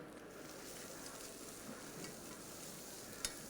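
Vegetables sweat gently in a pan, with a steady soft sizzle and a faint scrape of stirring close by, and one sharp click of a utensil near the end.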